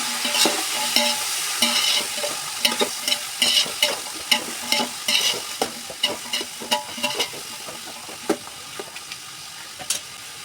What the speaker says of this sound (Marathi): टोमॅटो मटार घालूयात आणि मिक्स करून घेऊया.